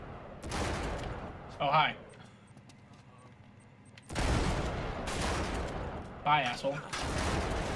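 Gunfire in the Uncharted 3 multiplayer game, loud bursts of shooting in two stretches with a quieter gap between, heard under voices talking.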